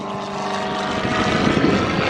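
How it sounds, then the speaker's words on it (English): A Cirrus propeller airplane takes off from a runway, its engine and prop making a loud, steady droning roar that grows slightly and rises in intensity, with no speech. "Winds are coming right down the runway, so it just makes for a quick, easy takeoff."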